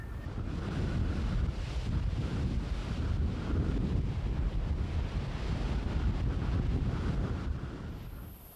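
Wind and heavy seas at the exposed Flannan Isles, a loud, continuous roar of wind buffeting the microphone over crashing waves that fades slightly at the end.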